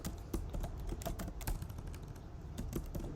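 Keys clatter on a computer keyboard while someone writes Excel VBA code, quick uneven clicks close by with short pauses, and no voices over them.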